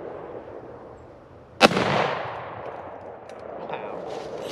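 One loud shotgun blast aimed at an outdoor target gives a sharp crack, followed by a rolling echo that fades into quiet background.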